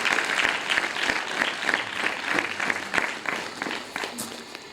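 Applause from the congregation at a church meeting in Gollapally, a steady, moderately distant wash of many hands clapping that rises and falls slightly and fades toward the end.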